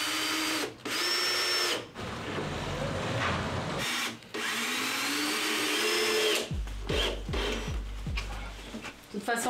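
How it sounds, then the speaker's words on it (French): A power drill driving screws while building a solar dryer, loud whirring bursts that start and stop several times, then short quick pulses near the end, with people talking in between. "Allez, vas-y, on visse."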